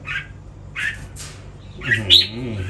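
Red-whiskered bulbul chick of a fancy-bred line, being hand-raised, calls in short harsh squawks: three brief bursts early on, then a louder rising cluster of calls near the end, close to the microphone.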